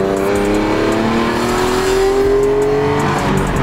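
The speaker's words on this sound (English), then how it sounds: "And that's a light third gear pull." A tuned BMW M3 engine revs up hard under a light third-gear pull, its pitch climbing steadily through the gear with a loud, close exhaust note.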